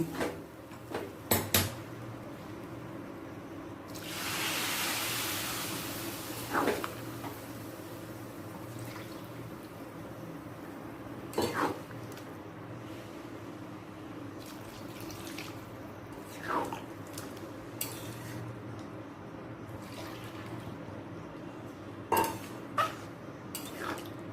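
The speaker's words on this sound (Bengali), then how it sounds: "এই ধরনের কাপে তিন কাপ জল দিয়ে দিলাম" Three cups of hot water are poured into daliya khichuri with mixed vegetables, a soft pouring splash over kitchen clatter of utensils and cup knocks, with no voices.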